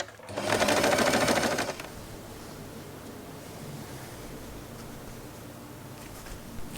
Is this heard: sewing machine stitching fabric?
yes